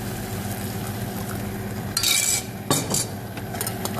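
Risotto rice is stirred in a pan with a spoon, making soft continuous scraping close by. Louder metallic clinks and scrapes of the utensil against the pan stand out midway, over a faint simmer.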